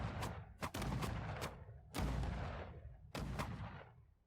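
Cannon towers in a tower defense game built in Dreams fire booming shots in an irregular volley, each blast thudding loud and close with a short decaying rumble.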